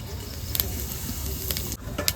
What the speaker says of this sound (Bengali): এবার ফোড়নে কিছুটা জিরে